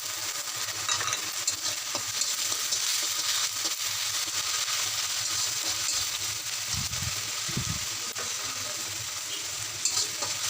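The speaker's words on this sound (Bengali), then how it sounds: "পেঁয়াজের মধ্যে একটু সময় ভালো করে ভেজে নিব যাতে করে আদা রসুনের যে কাঁচা গন্ধটা আছে এটা যেন চলে যায়" Onions and ginger-garlic paste fry in a pan with a steady close sizzle, broken by a couple of scraping stirs, and no voices.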